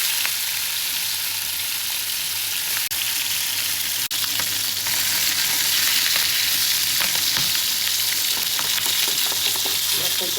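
Hilsa fish lightly frying in a pan, a steady loud sizzle running throughout with occasional sharp crackles and pops, no voices.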